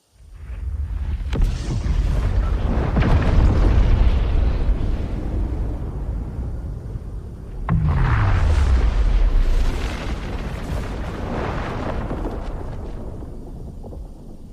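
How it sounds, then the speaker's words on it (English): Fortnite's Spirit Realm portal activates in-game with a loud rumbling blast that surges again midway, a deep descending boom trailing off into sustained roaring noise with no talk over it. "We already have a leaked video here of the Spirit Realm portal being activated and shooting something into the sky, forming a rift"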